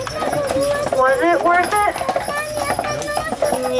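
Horses' hooves clip-clop steadily as they pull a tour carriage on Mackinac Island, a continuous rhythmic clatter heard under someone talking and background music.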